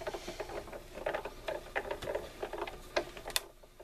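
An embossing folder is cranked through a die-cutting machine, giving faint, steady, rhythmic clicking and crunching throughout.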